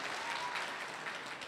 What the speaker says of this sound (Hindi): एक बार जोरदार तालियां बजा दीजिए उनके लिए